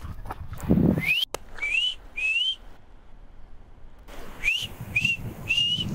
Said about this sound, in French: On entend des sifflements mais on sait pas si c'est des marmottes